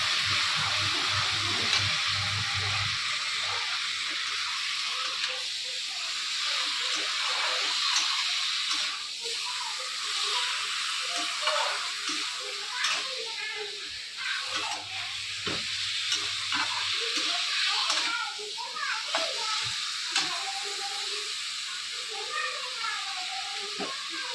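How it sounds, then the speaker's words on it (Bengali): Marinated chicken being fried and stirred in a pan gives off a steady, close sizzle with scattered stirring scrapes, and there is no talking. "ম্যারিনেট করা চিকেনটা এর মধ্যে দিয়ে দিতে হবে। ভালো করে চিকেনটাকে কষাতে হবে।"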